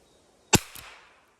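A single sharp shot from a Safari 420 air rifle cracks close by, fired at 7 meters, followed by a fainter second impact and a brief fading tail.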